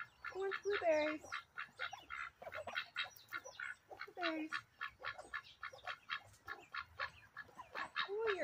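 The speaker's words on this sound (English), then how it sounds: "Oh, you're a dirty duck." Ducks quack and honk repeatedly in quick, close bursts while eating blueberries outdoors alongside chickens, the calls coming in a busy, uneven rhythm with a person's voice occasionally heard.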